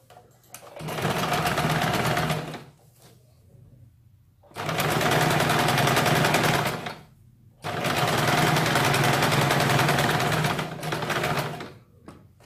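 A sewing machine stitches a slip petticoat in three long, steady runs of rapid whirring, close and loud, separated by short pauses.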